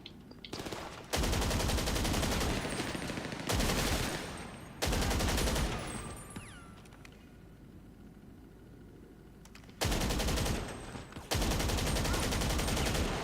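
Long automatic bursts empty a magazine in GTA 5 Online, loud and close. The rapid fire comes in several sustained runs separated by quieter gaps with background engine hum.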